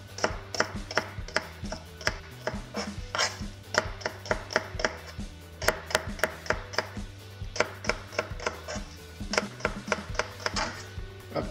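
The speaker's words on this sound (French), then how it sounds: "À présent on va couper le reste du poireau." Knife chopping leek on a cutting board in a home kitchen, a steady run of crisp, close, rhythmic cuts with a low hum beneath, no talking.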